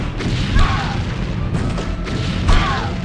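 Explosions in X-Com: Apocalypse: two dull low booms roughly two seconds apart, with crackling debris over a steady rumbling game background.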